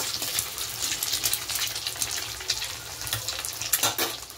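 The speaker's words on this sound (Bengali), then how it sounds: "আর এর মধ্যে ডিম দিয়ে একেবারে ভেজে নিচ্ছি।" Egg frying in a pan of boiled lentil tarka, a steady close sizzle with faint stirring scrapes and a few louder spatters, no talk.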